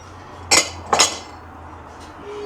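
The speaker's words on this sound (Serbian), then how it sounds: "Da sklonim čiste sudove koji se ručno peru." Clean hand-washed dishes being put away in a home kitchen: two sharp, close clinks of crockery half a second apart, then a faint third knock, with no voices.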